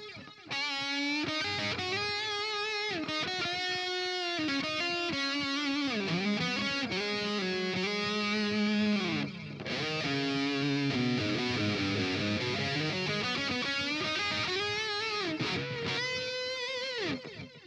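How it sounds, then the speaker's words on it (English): An electric guitar played through a heavy delay effect plugin in Neural Amp Modeler rings out with distorted, continuous melodic lines and smeared repeating echoes, filling the whole stretch with no talk. "That's a lot of delay."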